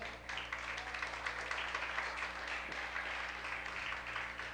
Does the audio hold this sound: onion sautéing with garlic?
no